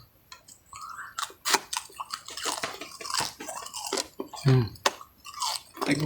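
Crunchy kalingag snack being chewed up close, with rapid, irregular crisp crunches and bites in a dense run and brief pauses between mouthfuls.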